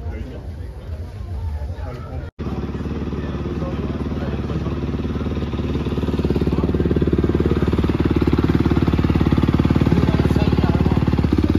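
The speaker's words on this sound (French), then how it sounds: "La moto de Pierre Goupillon avec la plaque rouge" A motocross engine roars steadily and grows louder and harsher during a French Elite motocross championship race at Bitche, with voices talking over the mechanical drone.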